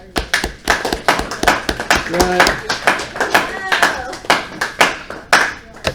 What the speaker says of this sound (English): everybody give Brickell a big round of applause